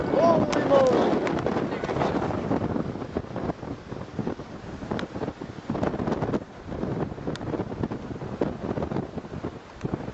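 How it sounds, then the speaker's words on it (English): Strong roaring inflow wind near a brief tornado touchdown in Pratt County, Kansas, buffeting the microphone in a loud continuous rumble with gusty surges throughout, faint voices beneath. "That is some crazy inflow you're hearing right now"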